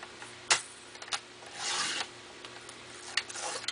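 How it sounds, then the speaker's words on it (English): Scissors or a blade cut an inch-wide strip of material in short, crisp snips and a longer rasping stroke, close and quiet, with no talking. "I'm going to cut a nice little strip"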